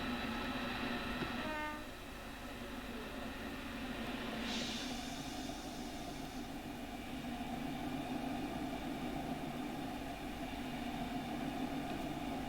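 A double-headed train on the Hope Valley route in Train Simulator Classic sounds a tonal horn blast, then runs on with a continuous rumbling, rattling roll of engines and wagons.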